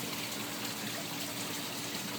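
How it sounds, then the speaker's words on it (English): Water trickling down rocks into a small garden pool, a faint, continuous babbling wash heard close with no voices. "get that water to come down here and hit right here and spin in this pool here"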